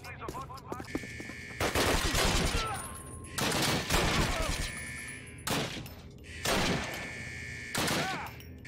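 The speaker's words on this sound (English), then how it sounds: "That was a sniper" Loud, booming rifle shots from the WWII shooter Call of Duty: United Offensive, including sniper fire, arrive as several separate heavy blasts a second or two apart, each with a long rumbling tail, nearby and dominant over faint game sounds.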